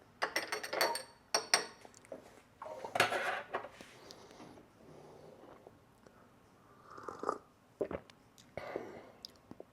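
A spoon stirs and clinks against the inside of a cup of Nespresso Whirl Lungo coffee, giving several scraping and tinkling bursts close by that stop and start, with quiet pauses in between.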